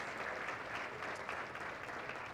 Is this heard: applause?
yes